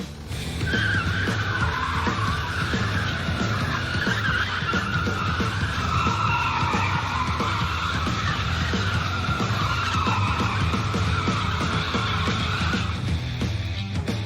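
A Ford Thunderbird being driven hard on a test run after a shift-linkage repair, its tires squealing in a long, continuous wavering screech over a loud, rumbling engine.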